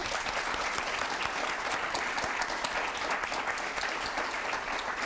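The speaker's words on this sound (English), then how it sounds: "Let's give our panel a round of applause." Sustained applause from an audience, a dense steady clatter of many hands clapping at even loudness throughout.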